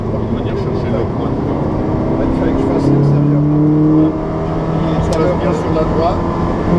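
Ferrari 458 Special V8 engine pulling under acceleration on a race circuit, a loud steady drone with a rising pitch partway through, heard from inside the car alongside constant wind and road roar.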